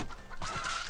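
Chicken clucking in the game Swamp Attack 2, short repeated clucks over a busy, continuous backdrop of game noise.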